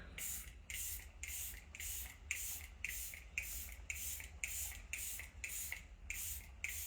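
Makeup setting spray is misted in a quick regular series of about a dozen short bursts, each a close airy hiss, evenly spaced with brief gaps between them.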